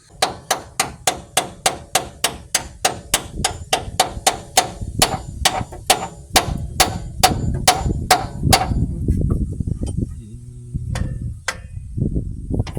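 Sharp hammer blows strike in a steady, fast series, loud and close, then space out and fade into rumbling, clattering activity.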